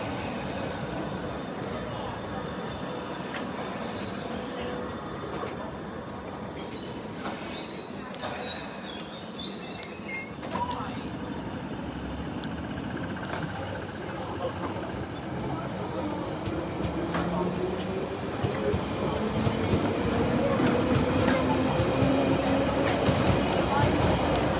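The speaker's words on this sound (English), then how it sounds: "Here is the 1938 stock leaving Northfields to head over to the nearby depot by Acton Town" A London Underground 1938 stock tube train pulls away from Northfields station, a steady rolling rumble with brief metallic squeals and clanks early on, growing louder toward the end.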